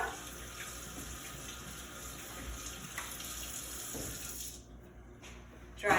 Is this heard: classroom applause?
no